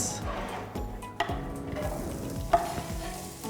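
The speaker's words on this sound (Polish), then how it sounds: "Smażymy cebulę?" Chopped onion frying in a pan in a rural homemakers' kitchen, with a steady low sizzle and repeated stirring scrapes and a couple of sharp utensil clinks against the pan, close and moderately quiet, no talking.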